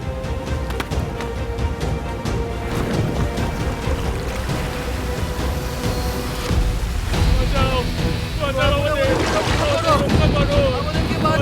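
A boat is buffeted on rough open water: a continuous roar of wind and surging waves, with strained voices crying out over the churn toward the end.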